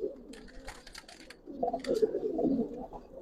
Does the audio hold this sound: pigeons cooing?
yes